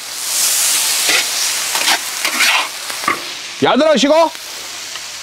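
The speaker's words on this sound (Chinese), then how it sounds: "大葱炒香后下到羊肉，放一点点生抽" Lamb is stir-fried in a wok with scallions and pickled mustard, giving a loud, close sizzle and the scrape of stirring. A voice briefly speaks partway through.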